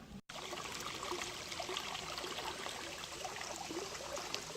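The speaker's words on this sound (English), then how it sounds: "I think this thing is the very essence of a babbling brook." A small babbling brook near waterfalls on a countryside hiking route trickles and gurgles continuously, a faint, even wash of running water with no voices.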